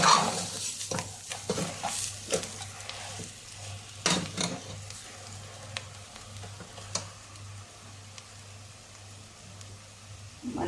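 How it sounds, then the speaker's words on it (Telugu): Spice powders frying in a pan over a medium flame for a brinjal, raw mango and mutton curry, with an even sizzle broken by frequent close scraping stirs and clinks of a spoon against the pan. "మీడియం ఫ్లేమ్లో ఈ పౌడర్లన్నీ ఫ్రై చేసుకోండి"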